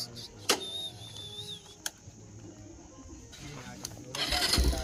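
A vehicle engine starts close by, with a few clicks and knocks before the motor turns over and swells into a running rumble at the end.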